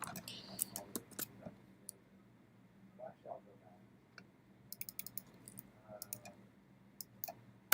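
Soft, scattered keystrokes on a computer keyboard tap in short bursts with pauses between them, faint and close, over a quiet room hum.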